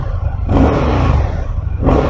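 Indian FTR 1200 S motorcycle from 2022, fitted with an Akrapovič exhaust, cranks and fires into a loud, steady idle with rumbling low-end throb that swells near the start and again toward the end.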